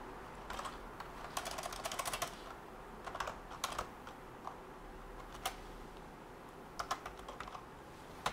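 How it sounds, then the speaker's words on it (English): Computer keyboard keys typed in short irregular bursts of quick clicks with pauses between, fairly close and quiet, over a faint steady fan hum. "That is a keyboard."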